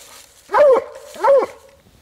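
A happy dog barks twice, with the two loud close barks about three quarters of a second apart over a quiet background.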